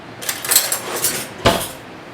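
A metal spoon clinking against a mixing bowl in a home kitchen during einkorn biscuit making, a few quick scrapes and taps, then one sharper knock, close up and without talking.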